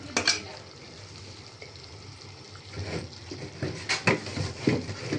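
Oil going into a pot of beef korma, giving a soft sizzle under scraping and clinking stirring strokes that grow busier toward the end, with a few louder knocks of the spoon.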